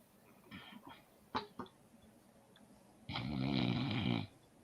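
A grandmother snoring during a casual home chat, a single long, loud rasping snore that swells and fades after a few softer coughs and breaths, close to the microphone.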